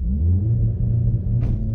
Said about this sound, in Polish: Trakcja off, pedał hamulca, pedał gazu i pierwsze w życiu przyspieszenie od zera na launchu.